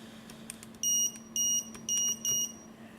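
Four evenly spaced high-pitched electronic beeps from a drone power distribution board alarm, each about a quarter second, over a steady low electrical hum and faint clicks.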